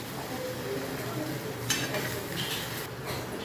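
Crushed rui fish head frying with spices in a pan for muri ghonto, a steady low sizzle with a few sharp clinks and scrapes of a spatula against the metal.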